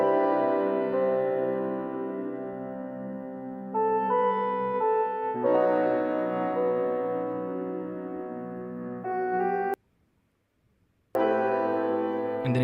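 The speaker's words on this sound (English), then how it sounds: "But this is how the piano sounds." Piano part of a lo-fi-style track: sustained chords ring out and change every couple of seconds at moderate level, with a brief silent gap before the chords return, no voices.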